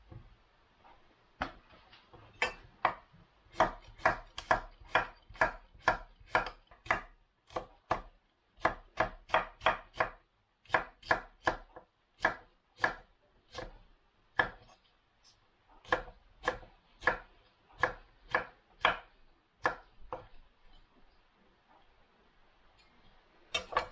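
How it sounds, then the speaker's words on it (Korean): A knife chops lotus root and cucumber on a cutting board for glass-noodle japchae, a long run of crisp, evenly spaced strikes with short pauses between bursts, close and clear with no talking. "자, 연밥 썰고요. 오이."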